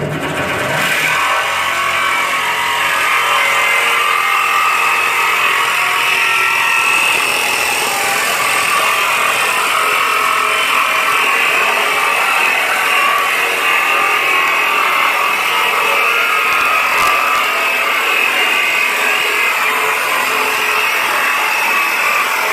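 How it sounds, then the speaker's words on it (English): A jigsaw cuts around the lid of a steel oil drum with a loud, continuous, buzzing metallic rasp that holds steady and close for over twenty seconds with no talk. "I picked a good spot on the base of my jigsaw, stayed with it, and I'm getting a pretty even cut all the way around my lip"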